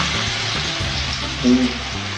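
Coriander leaf fritters sizzle in hot oil, a steady crackling hiss close to the microphone, with a brief faint murmur of background voices partway through.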